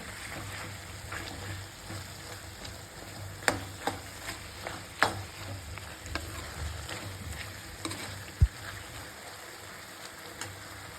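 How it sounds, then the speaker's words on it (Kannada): Chicken frying in a pan with ginger garlic paste, giving a steady, moderate sizzle throughout, broken by a few sharp clinks and scrapes of stirring. "ಫ್ರೈ ಆಗ್ತಾಯಿದೆ ನೀಟಾಗಿ"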